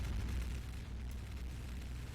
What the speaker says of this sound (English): Space cannon.